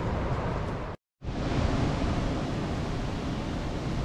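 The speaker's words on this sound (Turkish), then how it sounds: "dalgaların sesi duyulmuştu" Ocean waves washing onto the rocky shore at Tayrona Park, Colombia, a loud continuous roar of surf with a brief dropout of silence near the start, then steady rushing water with no voices.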